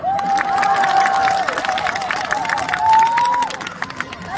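Crowd noise from an audience at a centenary celebration concert at a Korean elementary school, with scattered clapping and cheering under a sustained tonal line, likely music, and some shouting; no clear, dense applause stands out.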